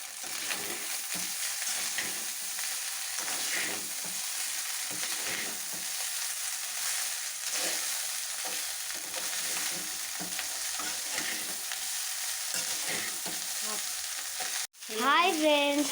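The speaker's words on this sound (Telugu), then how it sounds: "అన్నం కలుపుకోండి." Egg fried rice being stirred and mixed in a hot pan, a steady broadband sizzle with scraping stir strokes throughout, briefly cutting out near the end before resuming louder.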